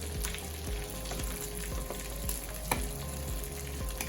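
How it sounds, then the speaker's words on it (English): Salmon frying in garlic butter sizzles steadily and close while a spoon bastes it, adding light metallic taps and clicks over the continuous crackle, with no talking. "Let's go ahead and spoon all this wonderful garlic butter on our salmon"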